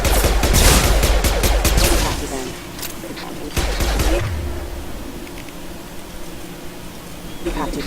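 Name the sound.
gunfire in Mass Effect 2 video game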